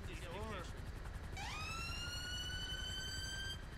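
Ambulance siren in GTA 5 with UK emergency vehicle mods, sweeping up and wailing steadily after an opening yelp, loud and continuous over road noise.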